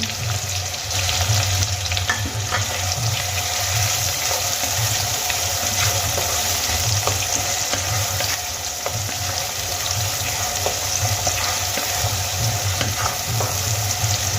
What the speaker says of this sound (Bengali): এবার আমি পেঁয়াজগুলোকে খুব ভালো করে ভেজে নেব